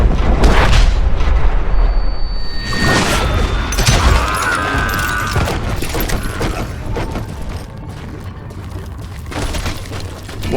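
A loud, booming explosion in the Western shooter Call of Juarez: Gunslinger, a mine blown up by a gunshot, with a heavy low rumble and crashing debris that fades over several seconds.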